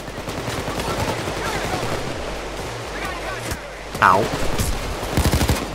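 Rapid gunfire in the heist video game PayDay 2, fast bursts and volleys throughout, with a player voice briefly exclaiming amid the shots.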